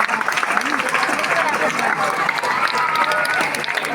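Dense, continuous applause from an audience at a government school parents' meeting, a full crowd clapping steadily and close by, with no pauses.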